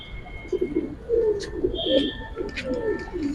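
Giribaz and racer pigeons coo in a loft, several soft throaty coos repeating steadily with a few brief chirps and high squeaks over a low background hum.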